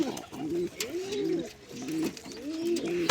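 Several pigeons coo in repeated low, rolling phrases, a steady rhythmic cooing that rises and falls close by, with faint chirps and background noise around it.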